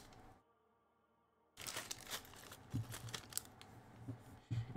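A plastic bag crinkles and rustles as it is pulled away while building a BlueBrixx Stargate Atlantis Aurora brick set, a close, busy rustle running after a short quiet stretch, with a few soft knocks.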